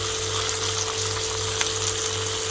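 Food sizzles steadily in a hot pan, a constant frying hiss with faint stirring clinks and a low background hum, as chilli chicken with soy sauce and white pepper is sautéed.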